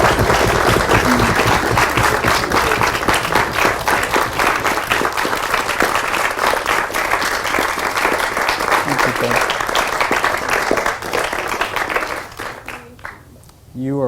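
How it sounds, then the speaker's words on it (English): A lecture audience applauds loudly, with dense clapping that holds steady and then thins out and dies away near the end. "So we do thank you and applaud you."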